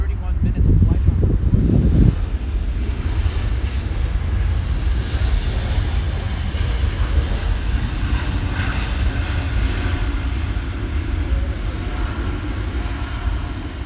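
An Airbus A321 airliner on an Orlando, Florida service passes as a steady, loud broadband engine roar with wind rumble, a brief louder low burst in the first two seconds.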